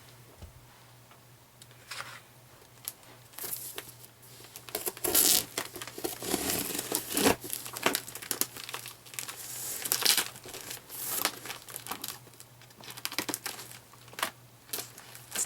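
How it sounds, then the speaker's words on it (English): Crinkling paper, tape and cardboard crackle up close as a taped-up package holding a 1940 Featherweight 221 sewing machine is unboxed, in irregular bursts of rustling, tearing and ticking. "I'm going to go ahead and open this because I'm really excited to see what it looks like."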